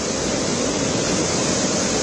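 Flash floodwater rushes through the Prem Nagar area of Dehradun as a loud, unbroken roar of churning water, steady and close with no pauses.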